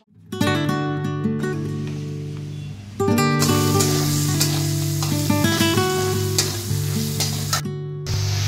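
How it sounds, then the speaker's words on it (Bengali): Beetroot and beans fry in a pan with a constant sizzle and occasional stirring, heard under steady tonal music that carries on throughout. "এটা এখন বিট আর বিনস ভাজা হচ্ছে, একদম কালারফুল।"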